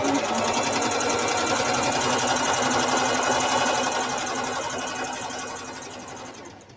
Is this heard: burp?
no